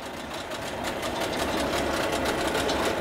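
A used outboard boat motor runs steadily at close range, with a fast mechanical chatter and rattle of even, unbroken rhythm and no voices.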